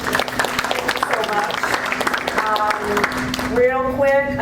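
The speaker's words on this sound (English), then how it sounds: "Can we give them a round of applause?" An audience applauds seminar panelists, steady clapping filling the room at moderate loudness while voices talk over it and a constant low hum runs underneath.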